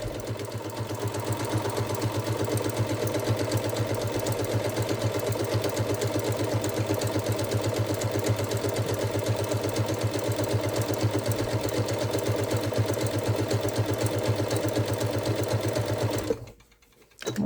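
A sewing machine stitches a dense satin stitch over the raw edge of appliqué fabric, a loud, steady, rapid needle clatter running continuously before it stops abruptly near the end.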